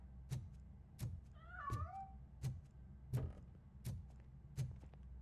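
A cat meowing in the video game RoboCop: Rogue City, a single distinct meow amid a steady series of regularly spaced heavy metallic footsteps.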